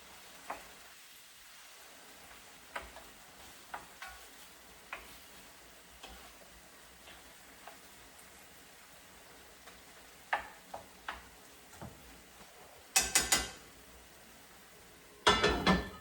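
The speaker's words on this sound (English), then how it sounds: "And then I'm going to just stir down." A spoon stirs beef and tomato soup in a pot, making sparse light clicks and taps against the side over a faint simmer, with a few louder clattering knocks near the end.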